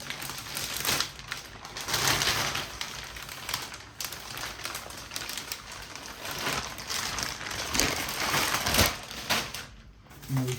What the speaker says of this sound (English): let's unwrap this fan.